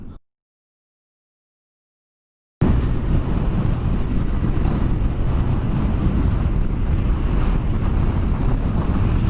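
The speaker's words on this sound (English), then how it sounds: "it's very, very windy today actually, especially up here" Heavy wind buffets the microphone in a loud, constant roar after a brief silence, on high ground in Richmondshire, rumbling low and steady with no voices.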